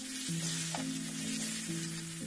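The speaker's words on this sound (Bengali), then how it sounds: "কলাটাকে দিয়ে ভালো করে লাল লাল করে কলাটাকে ভেজে নেব" Plantain pieces fry in hot oil for a Bengali shukto, giving a steady dense sizzle throughout, loud and close with no pauses, and a faint low hum underneath.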